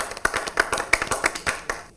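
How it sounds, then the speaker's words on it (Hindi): A small group claps for poets at a Hindi kavi sammelan, the sparse sharp claps coming in an uneven rhythm, close and fairly distinct over about two seconds. "तो एक बार जोरदार तालियां, बहुत बहुत स्वागत है हमारे कविजनों का हमारे बीच में"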